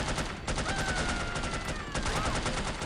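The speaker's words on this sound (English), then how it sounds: "Okay, ich baller die jetzt einfach weg." Rapid gunfire in the video game No One Lives Forever, dense bursts of automatic shots in quick succession, loud and continuous throughout.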